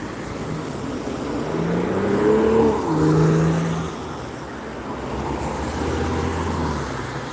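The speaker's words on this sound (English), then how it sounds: "there's probably going to be a bit of traffic noise" Steady roadway traffic rumbles and swells from vehicles passing in front of the spot where people stand outdoors, a continuous wash of engine and tire noise with one louder pass in the middle.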